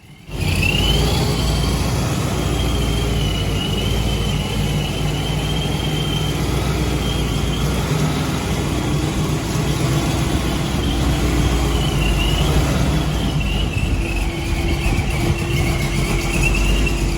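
A tuned 1,000-plus horsepower car, the Bald Eagle Machine, runs continuously in a driveway, its engine a loud, steady roar with a high whine riding on top that wavers slightly, and no break across the whole stretch.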